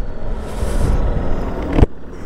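A 2022 Ducati Multistrada V2S motorcycle engine runs close by with a deep, throaty idle rumble that swells briefly, ending in a sharp thump before settling down.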